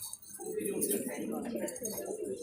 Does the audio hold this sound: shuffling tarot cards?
no